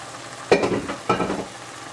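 A spoon stirs risotto with red radicchio in a pan, two distinct scraping strokes over a low, continuous sizzle, heard close up.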